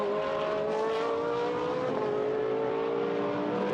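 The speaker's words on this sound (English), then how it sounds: "The BMW is very strong out of the chicane." A BMW GT1 race car accelerates hard out of a chicane during a GT1 championship race in Germany, its engine a loud, sustained high-pitched roar with a gear-change dip midway, heard continuously over the trackside ambience.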